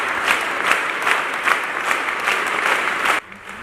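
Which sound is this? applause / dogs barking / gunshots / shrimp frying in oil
applause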